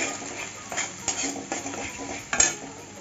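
Rohu fish curry with poppy seed and nut paste stirred in a pan: a spoon scrapes and taps the metal in several distinct strokes under a faint sizzle, close and moderately loud.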